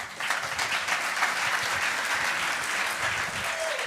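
Audience applause for an archbishop at a church talk to young Congolese, steady dense clapping across the whole span, fairly close and full.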